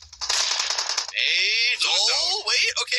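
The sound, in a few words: gunfire barrage in PUBG Mobile video game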